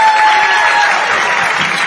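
An audience applauds after a presentation, a dense, steady wash of clapping from a crowd that tapers slightly toward the end.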